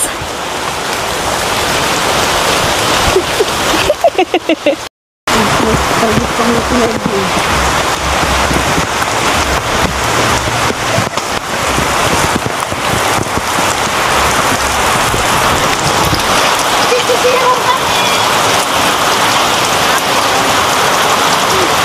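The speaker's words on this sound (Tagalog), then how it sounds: "Super lakas ng ulan." Heavy rain pours steadily and loudly throughout, a dense hiss of drops drumming on a surface, with one brief cut partway through.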